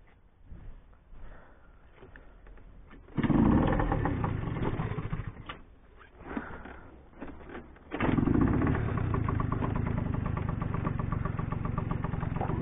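Iveco Daily van, about 50,000 km, with a worn front shock absorber, its engine droning loudly while driving: a quieter rumble first, then two surges of strong, steady engine roar.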